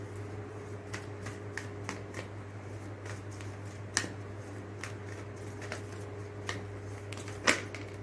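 Tarot cards are shuffled by hand, with light flicking snaps and a couple of sharper card pops scattered over a steady low hum, close and fairly quiet.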